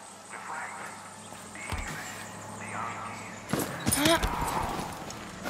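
Horse hooves in Far Cry 6 clip-clop close by in an uneven walking rhythm, with a few louder knocks and a brief squeal as a person talks over them.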